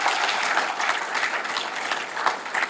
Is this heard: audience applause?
yes